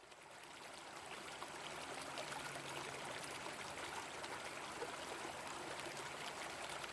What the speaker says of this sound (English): The Whangaehu River still flows today, quiet and serene